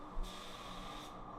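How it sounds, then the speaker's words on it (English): A spray gun spraying clear coat at 30 psi hisses in one steady burst lasting under a second, soft and close, with a quiet background before and after. "Still spraying at 30 psi."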